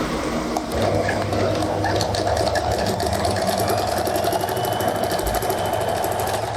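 A sewing machine stitches trouser seams in a steady, continuous mechanical whir with a fast needle rhythm, close and fairly loud, while birds coo and chirp faintly in the background.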